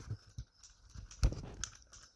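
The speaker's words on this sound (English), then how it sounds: "Now you can hear it clicking both ways." A Porsche Cayenne 955 transfer-case range switch, unscrewed and faulty, gives a few quiet, sharp clicks spaced apart over soft handling noise, with one louder click near the end.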